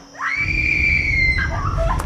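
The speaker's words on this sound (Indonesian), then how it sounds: "tiba-tiba ada suara teriakan" A woman's sudden, loud, sustained scream sounds in a zombie film in the story of Night of the Something. It is a single long shriek of a second or more over rumbling background, which then breaks off into shorter cries.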